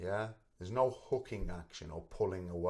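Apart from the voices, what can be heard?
No everyday noise stands out behind the speech.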